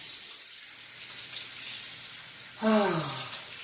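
Tap water runs steadily over a chromatic harmonica being rinsed, a soft continuous hiss; near the end a short voiced sound rises briefly above the water.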